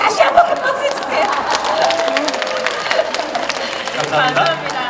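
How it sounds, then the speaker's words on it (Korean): Audience applause and cheering for the singer at a lunchtime concert, a steady wash of clapping and crowd chatter that stays loud from start to finish. "잘 생기고 노래 잘하는 우리 신장에게 다시 한번 큰 박수 주세요."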